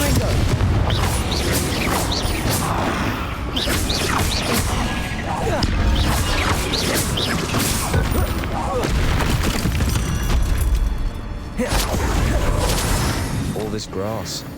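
In Hogwarts Legacy, combat booms and crashing impacts pile up densely, with a Confringo blasting spell exploding amid the fight while voices call out spells over the din.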